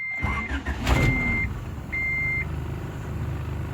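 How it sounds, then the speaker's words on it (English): An AEM 340 electric fuel pump, newly installed in a 1986 Honda Accord LXi, runs with a steady, fairly loud mechanical hum, and a thin high whine fades in and out over it. "The pump's pretty loud, I can hear it."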